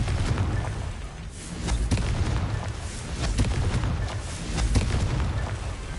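Confringo blasting spell in Hogwarts Legacy, continuous rumbling explosions and booming bursts throughout, loud and dense with repeated impacts.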